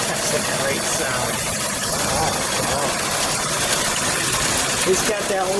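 A 1936 Chrysler Airflow Eight coupe with a 6-volt system and single exhaust idles steadily nearby, a low continuous rumble with a faint groan, while people talk over it.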